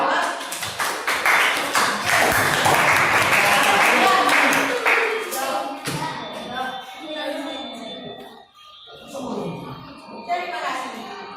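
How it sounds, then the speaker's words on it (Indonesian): A classroom group claps in a counselling lesson, a loud burst of clapping that swells then thins out after about six seconds into scattered claps, with people talking over the fading end. "Tepuk tangan buat."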